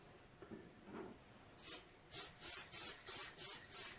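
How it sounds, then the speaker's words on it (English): Lacquer misted lightly from a spray can onto the cabinet of a 1934 Grunow 501 antique tube radio: a quiet start, then six short, even hissing bursts in steady rhythm, close and fairly loud. "You keep your distance a little further away than you would maybe with a radio, and you're just going to mist it on real lightly"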